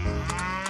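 A cow moos in the farming video game Doraemon Story of Seasons, one short, full, close low call that holds steady and then cuts off, with no talking over it.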